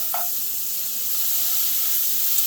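Butter with about a tablespoon of olive oil sizzles steadily in a hot pan, a continuous close hiss with one brief knock near the start.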